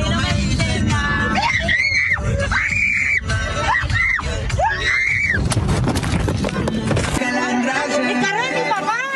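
Teenage girls screaming desperately after the pickup truck they were riding in overturns, loud high-pitched wails rising and breaking repeatedly over a dense, clattering background, with music-like tones near the end.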